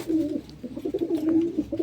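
Pigeons in a loft coo in a steady, rolling series of low throaty calls, close and continuous for the whole stretch with no other voices.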